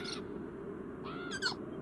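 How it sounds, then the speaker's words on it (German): A bird in the video game Beyond Eyes gives a few short, bright calls, one at the start and a rising pair near the end, faint over a low steady background. "Obwohl hier ein Vogel ist."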